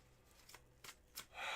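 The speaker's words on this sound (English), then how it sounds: "I'll start doing a cleansing shuffle for you here, clearing the cards off one last time for you" A deck of tarot cards is shuffled in a few quick riffling swishes, close and soft, ending in a longer brushing rush, with no voice.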